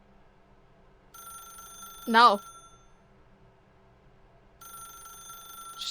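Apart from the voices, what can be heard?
telephone ringing in video game The Stanley Parable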